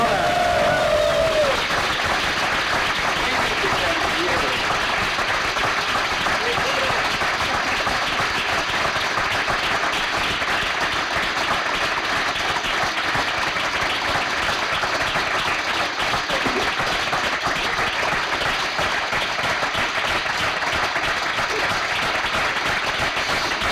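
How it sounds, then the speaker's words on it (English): An audience at a lightning talks conference day gives a long roaring round of applause, dense steady clapping that carries on at full strength, with a voice briefly audible near the start. "I now want a roaring applause"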